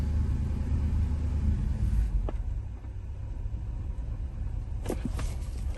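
A 5.3L engine running rich, held at roughly 1500 RPM, gives a steady low rumbling drone with a few faint clicks and ticks over it.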